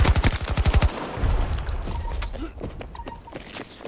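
A quick burst of about ten rapid SMG shots in Battlefield 2042 opens loud and close, then fades into scattered distant gunfire and faint battlefield noise.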